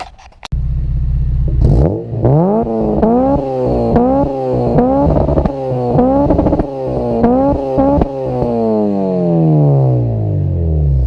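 A Honda Civic EP3 with a DC Sports cat-back exhaust revs hard through repeated rising and falling sweeps, loud and close, with a sharp rasp as each gear climbs, then winds down at the end.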